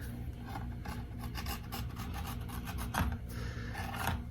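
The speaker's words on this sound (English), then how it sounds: "grab like a normal razor blade and just kind of reverse cut, just kind of go along, and you can just kind of trim up the edge" A razor blade draws along the edge of a ski skin, making a close, continuous scraping rasp with faint rhythmic strokes and no talk.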